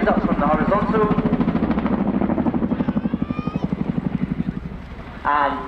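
An aircraft at the RIAT 2023 airshow flying a roller-coaster display manoeuvre, pitching nose up then pushing down toward the ground, its powerful turboprop throbbing loudly and steadily in a rhythmic beat beneath continuous commentary.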